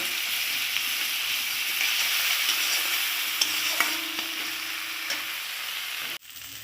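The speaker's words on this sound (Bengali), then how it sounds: "ঝাল গুঁড়ো লঙ্কা 1 টেবিল চামচ দিয়ে দিলাম। আর ওটা ধনে গুঁড়ো দিয়েছি, আর এটা জিরে বাটা দিয়ে দিলাম 1 টেবিল চামচ। এবার আমি কষিয়ে নেব।" A spice paste of chili powder, coriander powder and cumin paste sizzles steadily in hot oil as it is stirred, a close continuous frying hiss with a few scraping clicks, cutting off abruptly near the end.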